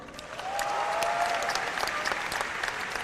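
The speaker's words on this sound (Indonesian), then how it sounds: "Tepuk tangan dong." An audience at a comedy roast breaks into applause, a dense, steady wash of many hands clapping that holds for a few seconds without pause, with no voices over it.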